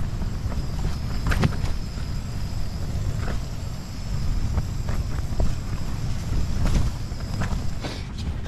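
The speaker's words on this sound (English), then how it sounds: "Wind's changed direction." Wind gusts buffet a tent at a wild camp in the Lake District during the tail of a storm. A steady, loud, low rumble carries occasional sharper flaps and knocks, with no voices.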